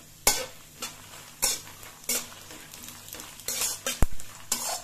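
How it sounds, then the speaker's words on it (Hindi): Cumin seeds roasting in a pan for curry leaf dry chutney, with a spoon scraping and stirring in repeated strokes and a faint sizzle underneath. A sharp metallic clink near the end, no talking. "जीरे को डाल दूंगी। जीरा भी भून जाएगा साथ में।"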